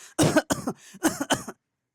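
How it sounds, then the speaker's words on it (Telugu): A burst of several harsh coughs in quick succession, close and loud, followed by silence. "దగ్గు"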